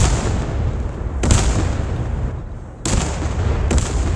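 Booming mortar fire in the video game Dagger Directive, three sharp blasts with rumbling tails rolling over continuous low battlefield rumble, fairly loud and close.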